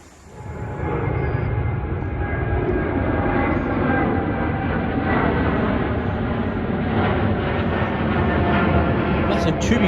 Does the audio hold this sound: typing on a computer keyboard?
no